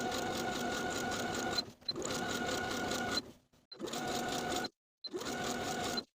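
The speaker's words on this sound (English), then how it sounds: "I'll take it to the sewing machine and sew close to my finishing stitches all the way around" A sewing machine stitches the hem of a tank top, close to the finishing stitches. It runs in four quick, even bursts of rapid chatter with short silent pauses between them.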